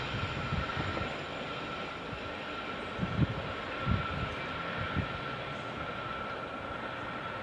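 Class 73 locomotives on a GWR line between Reading and Basingstoke pass as a steady rumbling roar with a faint high whine and a few soft clanks from wheels over joints, heard at moderate distance without talk.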